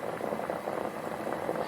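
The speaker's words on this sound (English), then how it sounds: "Is the water boiling?" Water boiling in a pot as a storybook sound effect, a steady, dense bubbling roll that stays even and continuous throughout, moderately loud with no speech.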